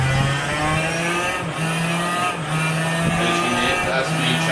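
A racing motorcycle engine in a sim racing game, played with a motorcycle-mod wheel, drones loudly and continuously, with its pitch stepping up and down as gears change.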